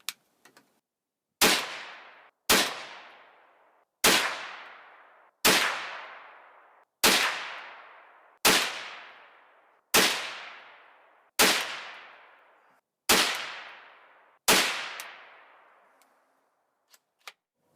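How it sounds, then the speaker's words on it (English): CZ 512 .22 WMR rifle firing a 10-round group of A22 ammunition at 25 yards: ten loud, sharp reports at an even pace of roughly one every one and a half seconds, each ringing out briefly, with no talking. "So now let's do our 10-round group at 25 yards using the A22 ammunition."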